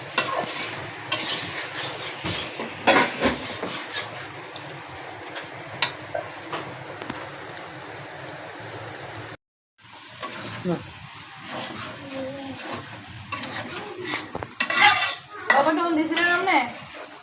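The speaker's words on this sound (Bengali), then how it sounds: "মশলার ভিতরে মুরগির মাংসগুলো দেওয়া হয়ে গেছে। এখন ভালো করে কষাবো।" Chicken pieces stirred and sautéed in spice paste in a pan, with scraping and clinking of a spoon against the pot over a low sizzle, a short break, then more stirring while someone talks.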